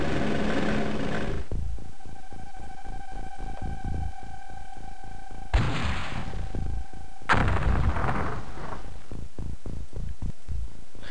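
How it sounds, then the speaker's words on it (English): Blaster ball explosions and weapon fire in the strategy video game X-Com, with loud booming blasts at the start and twice more mid-clip, separated by a rapid pulsing electronic throb and steady tonal hum. "Now I'm gonna launch a blaster ball inside the craft."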